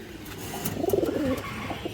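Giribaz pigeons feeding their chicks give a short, soft burst of close, rolling cooing, a few warbling notes over quiet background.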